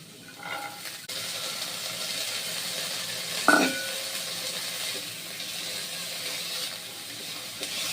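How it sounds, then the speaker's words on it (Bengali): Onions and carrots sizzle in a frying pan as they are stirred, a steady soft hiss running throughout with a brief louder clatter midway. "এবারে পেঁয়াজ আর গাজরগুলোকে আমি বেশ কিছুক্ষণ ধরে নাড়তে থাকবো যতক্ষণ না একটু লাল লাল হয়ে যাবে"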